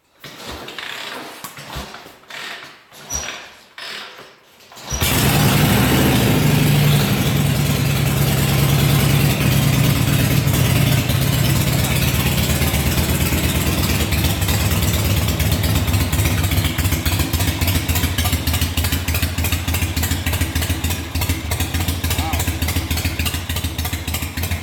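A nearly 70-year-old vintage Harley-Davidson racing motorcycle coughs through a few uneven starting attempts, then fires up and settles into a loud, steady, throbbing idle that continues close by to the end.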